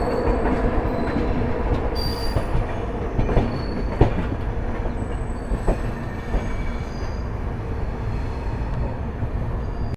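The Gatiman Superfast Express pulls out of Agra Cantt station, making a continuous loud rumble of rolling wheels with rail clatter and brief squeals and clanks throughout, no talk.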